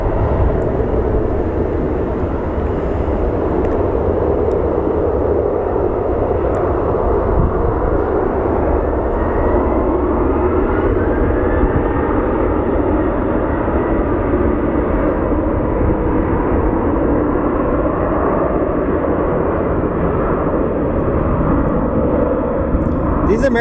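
American Airlines airliner rolling on the runway at Phoenix Sky Harbor, a steady, loud broadband engine roar holding for the whole stretch with a faint rising whine, talk murmuring underneath.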